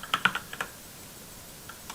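A handful of quick, close keystrokes on a computer keyboard while C# code for a calculator program is typed, a short cluster of clicks followed by a pause and a few more taps.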